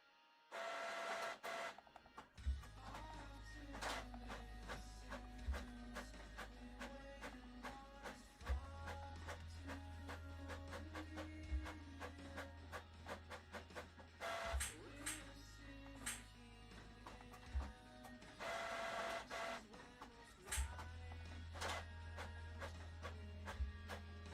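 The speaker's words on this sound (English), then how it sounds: "I gotta go grab that out the printer." An office printer printing a list, running for over twenty seconds with a steady low motor drone, repeated mechanical feed clicks and several louder rasping paper passes, close and alone with only faint background voices.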